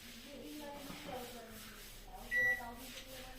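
A Panasonic microwave oven is set to micro power and started, giving a single short, clear electronic beep while someone talks over a quiet room background.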